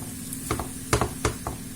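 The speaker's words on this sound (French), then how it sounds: "J'ai déjà mis de l'huile dedans. Je vais commencer par mettre mes oignons." Onions sizzling as they go into an oiled frying pan over low heat, a steady close hiss with a few sharper crackles and pops as pieces are placed.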